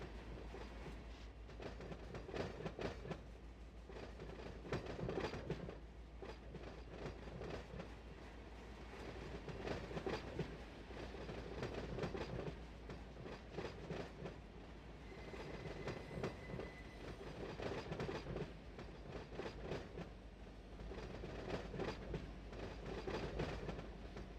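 A freight train rolls through a rail yard in the Run 8 train simulator game, a continuous rumble with rhythmic wheel clatter over rail joints and a brief faint squeal, steady and close with no talking.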